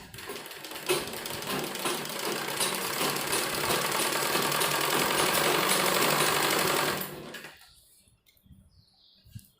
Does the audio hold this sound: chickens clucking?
no